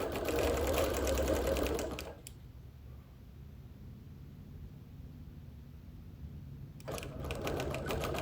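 A sewing machine stitching dense background quilting runs in a fast, steady buzz, stops abruptly for several seconds of near quiet, then starts up again close by.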